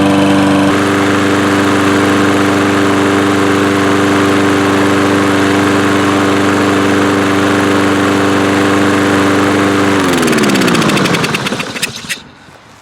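A lawn mower engine runs loud and steady at a constant pitch, then stumbles and sputters near the end, its tone dropping as it dies away to near silence; the mower has a fault that makes it quit after running for several minutes.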